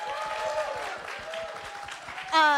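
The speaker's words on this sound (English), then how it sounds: "Can we get a round of applause for our amazing panelists?" An audience at a TwitchCon creator panel in San Diego gives a round of applause for the panelists, a steady wash of clapping throughout, brightening and swelling near the end.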